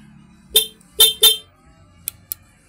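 A car horn gives three short honks close by, then two quick fainter beeps, over a low engine hum.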